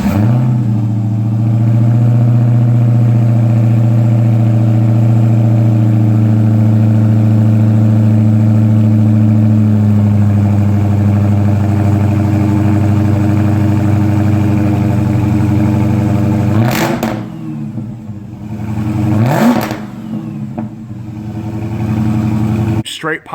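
A Dodge SRT Hellcat with stock exhaust idles loudly and steadily up close with a deep, even rumble, then two sharp throttle blips rise and fall near the end.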